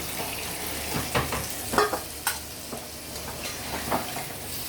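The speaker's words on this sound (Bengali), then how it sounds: "আমি এখন এর মধ্যে কিছুটা গরম পানি অ্যাড করব" Hot water is poured into a pan of well-browned chicken curry, giving a low steady sizzle with scattered stirring clinks and bubbling bursts, close by with no talk.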